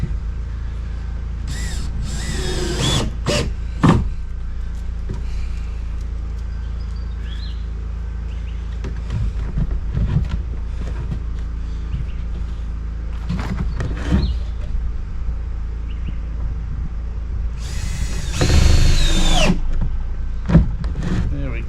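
A power drill bores into wood while a composting toilet is built outdoors, with several short bursts of whining motor spaced apart, close by, and faint birds and background noise between them.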